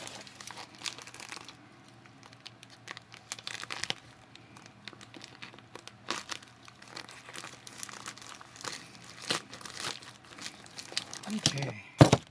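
Mail packaging being cut and torn open up close, with crinkling, rustling plastic and paper and sharp snips in irregular bursts, a louder tearing crunch at the end.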